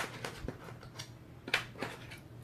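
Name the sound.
scissors cutting out paper numbers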